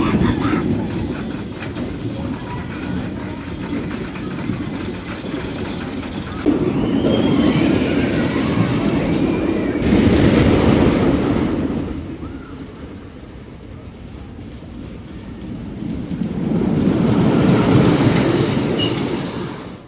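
Vekoma roller coaster Fønix at Fårup Sommerland in Blokhus, Denmark, ridden from the back row: a steady rumble of wheels on track with rising roaring surges of wind and speed, swelling and easing across the ride, with faint rider voices.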